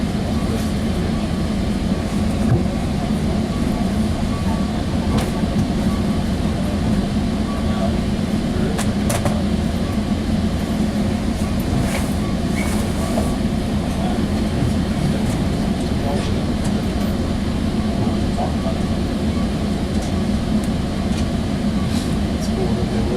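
Sound Transit Sounder commuter train 1513 heading to King Street Station, heard from inside: a loud, steady low rumble of the ride with occasional clanks and rattles, and voices faintly mixed in.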